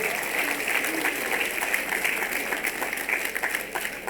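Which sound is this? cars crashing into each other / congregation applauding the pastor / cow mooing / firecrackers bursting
congregation applauding the pastor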